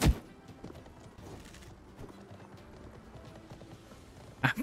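Horse hooves clip-clop in the medieval battle video game Conqueror's Blade, a soft run of rhythmic hoofbeats between louder thumps at the start and end.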